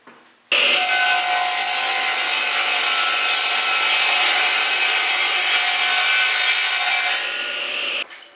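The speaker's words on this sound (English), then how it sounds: "now that I've got the sides cut, I'm going to do the ends, and I lowered my blade" A lowered saw blade cuts through the wooden ends of a rabbet-corner recipe box, a loud, steady whining rasp that holds for about seven seconds before tapering off as the cut finishes.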